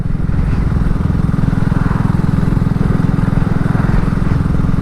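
A 2022 BSA Gold Star motorcycle engine runs steadily and loud, a dense low thumping drone held evenly for the whole stretch with no pauses.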